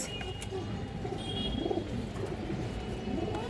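Tukshar pigeons coo steadily in a loft at a pigeon sale, low soft rolling calls repeating throughout, with faint chirps and bird noise in the background and no talk.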